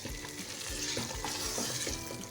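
Goat trotters fry in a pan with garlic and spices, stirred steadily, with a dense sizzle and repeated scraping strokes of a spoon against the metal.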